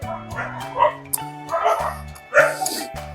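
A dog barking close by in a quick run of short, yelping barks and yips with whimpery edges, several bursts in just a few seconds.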